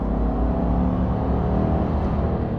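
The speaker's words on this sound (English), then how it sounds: "You get V8 noises." Deep, throaty engine rumble idles steadily, a low burbling V8 drone from a 2026 GMC Sierra Pro pickup truck filling the short stretch without any voices.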